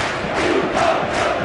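Football crowd at a Barnet match roaring after a goal, a broad steady wash of cheering and shouting that stays loud and even for the whole moment with no single voice standing out.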